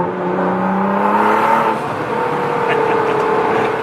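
A Nissan GT-R accelerating on the road after an oil change, its engine holding a steady, loud drone with the pitch rising gradually, heard continuously from inside or close by.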